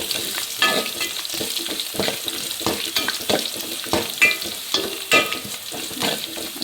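Mustard seeds crackle and pop in hot oil in a pan, a dense run of sharp spluttering bursts with stirring scrapes, close and fairly loud, no voices.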